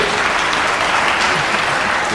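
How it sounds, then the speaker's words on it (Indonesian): Dense, steady audience applause at an investment talk and Q&A session at a university economics faculty, loud and continuous for a couple of seconds. "Kita beri tepuk tangan pada Philip"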